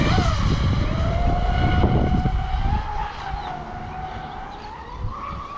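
An electric RC car, a Zonda XC running a WT200 ESC, picks up speed under throttle, giving a high rising whine over gritty rolling noise that rises, dips, then climbs again, near and fairly loud, no speech.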